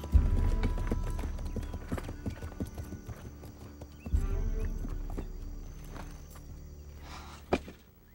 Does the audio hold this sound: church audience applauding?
no